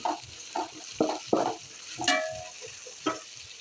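Crab roast masala frying and being stirred in a pan, a steady sizzle broken by several scraping stir strokes and a light metallic clink, close and alone without voices.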